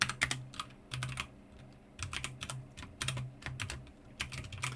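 Code being typed on a computer keyboard in quick clustered bursts of crisp key clicks with short pauses between, close and fairly quiet, no voices.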